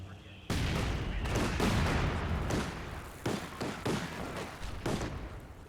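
Light machine gun fire in the World War II strategy game Company of Heroes 2, repeated bursts of close, loud gunfire with intermittent booms and a steady battle din throughout.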